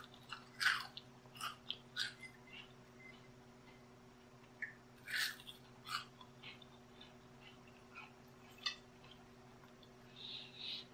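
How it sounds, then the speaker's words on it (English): Crunchy bites and chewing of fried enoki mushrooms, close and quiet, in irregular bursts of crisp crackling separated by short pauses, with no talking. "I know the crunch sound is really good"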